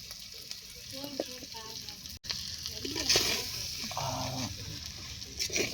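Goat intestine gravy with chili powder fries in a pan and is stirred, giving a steady sizzle with scraping strokes throughout, fairly close and moderately loud, with a brief dropout partway.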